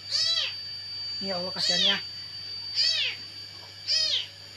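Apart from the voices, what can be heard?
abandoned kitten meowing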